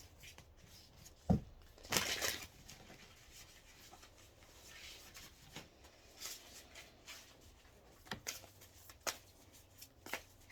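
Soft riffling and rubbing of tarot cards being shuffled close by, in a few brief bursts with quiet pauses between, no voices.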